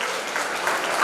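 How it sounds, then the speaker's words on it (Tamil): A burst of audience applause at a consumer rights day ceremony, a short, dense patter of many hands clapping at once, fairly close and alone. "அதற்காண்டியே ஒரு சிறப்பான கைத்தட்டல் கொடுக்கலாம்"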